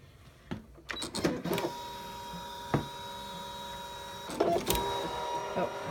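A Scan N Cut machine cuts a test square in flannel fabric, starting with clicks and a short whir, then running as a faint steady mechanical hum with occasional louder motor clunks.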